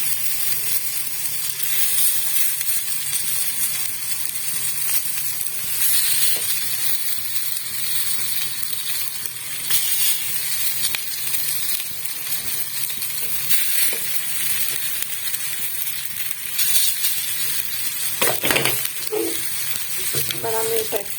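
Oats cutlets fry in a thin layer of brushed oil in a frying pan, giving a steady, close sizzle and hiss with occasional louder spits and stirring or handling noises near the end.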